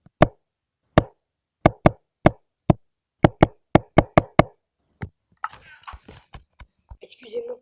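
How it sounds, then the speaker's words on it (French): A fingernail tapping on a tablet makes a series of sharp, close, dry clicks at an uneven pace, about a dozen taps, followed by soft rustling handling noise. "là c'est moi qui viens de taper avec mon ongle sur la tablette"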